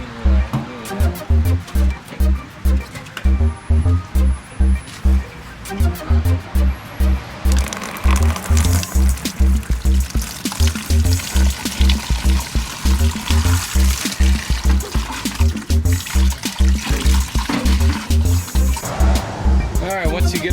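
Rust-removing liquid is poured into a container for cleaning a gas tank. The pour makes a continuous splashing gurgle under rhythmic low thumping and other loud background sound.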